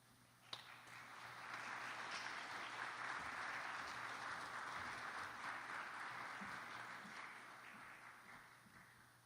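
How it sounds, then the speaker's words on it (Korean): Steady applause from a congregation at a church memorial service rises just after a sharp clap, swells through the middle and slowly tapers off, with no talking over it. "나오실 때 위로의 박수를 쳐주시길 바랍니다."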